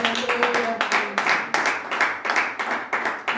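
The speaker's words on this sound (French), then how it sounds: "On acclame très fort le Seigneur." A church congregation claps steadily to acclaim the Lord, a fast, even rhythm of many hands, loud and close, with a faint voice underneath.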